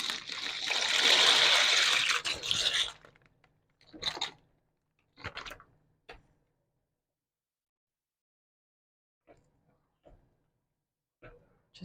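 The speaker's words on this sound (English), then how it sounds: "Before adding the noodles, I like to spin the water." Water spun with a spoon in a pot on the stove before noodles go in, a loud, close swirling rush of about three seconds followed by a few faint clinks and taps.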